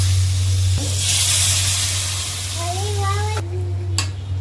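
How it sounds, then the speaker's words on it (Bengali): A loud burst of hissing sizzle as water hits a hot pan of vegetable stalks, settling into steady frying noise, with brief voices and clinks under it. "এখন জল দিয়ে দেবো, ডাঁটাগুলো যাতে একটু সিদ্ধ হয়ে যায়।"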